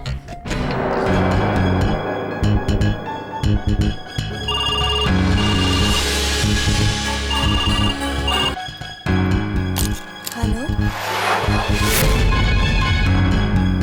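A telephone ringtone plays continuously, a bright melodic electronic ring with repeating phrases, loud and close.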